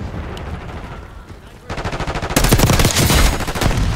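Archangel killstreak gunfire in Call of Duty Black Ops 6 multiplayer, starting as quieter rhythmic thumps, then swelling into loud rapid automatic bursts that rattle continuously to the end.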